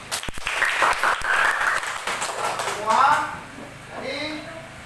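A crowd claps in a short burst of applause, fairly close, with a voice speaking over the tail end.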